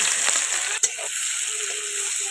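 Chopped onion fries in hot oil in a home kitchen, a steady bright sizzle with a sharp clatter partway through.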